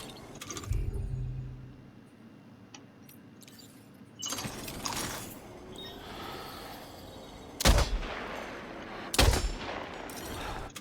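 A bullet gun fires in Death Stranding 2, with a few separate loud sharp shots spaced apart amid mechanical clatter and quieter game sounds.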